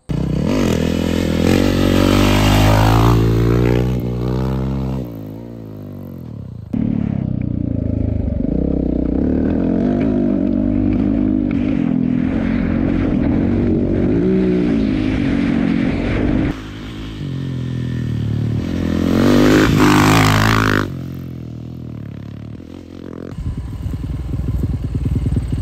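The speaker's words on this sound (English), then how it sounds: "All right, let's fire up that bike. We'll head down the track" A 2022 200 HP XRS motorcycle fires up and revs loudly on a dirt track, its engine note rising and falling in sustained bursts with brief dips between throttle blips.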